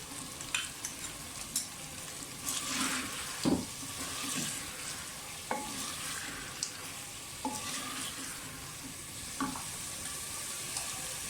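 Potatoes fry with garlic-ginger paste, green chillies and tomatoes in a clay pot for aloo palak sabzi, a steady sizzle broken by several sharp scrapes and knocks of a stirring spoon against the pot.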